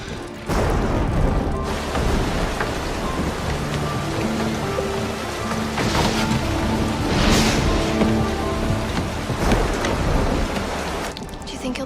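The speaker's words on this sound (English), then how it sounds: "It's raining outside." Heavy rain pours outside in a thunderstorm, a loud continuous wash broken by several deep thunder rumbles and booms, with a brief lull near the start and end.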